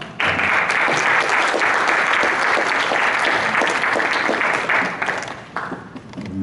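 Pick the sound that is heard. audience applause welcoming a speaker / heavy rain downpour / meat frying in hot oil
audience applause welcoming a speaker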